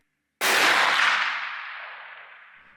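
A single .410 slug shot from a Springfield Armory M6 survival gun: one sharp, loud report with a sudden attack, followed by a long, gradually fading outdoor echo tail.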